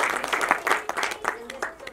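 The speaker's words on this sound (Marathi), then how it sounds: "सो संजयसाठी एकदा टाळ्या वाजवूया" An audience applauds for Sanjay at a Marathi film trailer launch, with brisk, uneven clapping swelling and fading over a couple of seconds, mixed with voices.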